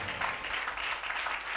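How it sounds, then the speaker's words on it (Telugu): Audience clapping at a pastor's church sermon, a dense, steady patter of many hands lasting a second or two at moderate distance. "చప్పట్లు కొడతారు అనుకున్నా"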